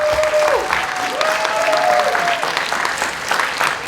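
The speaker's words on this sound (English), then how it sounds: "Applause for yourself," Startup weekend participants clapping for themselves in a hall, a brief burst of dense applause with a few whistles and cheers rising over it.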